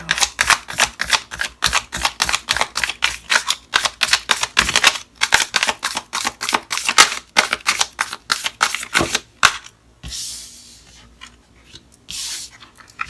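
Tarot cards are shuffled close up in quick, repeated riffling bursts, followed by softer sliding and tapping of the deck.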